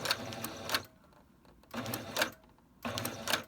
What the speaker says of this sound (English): y'all hear that? My bobbin's getting tangled.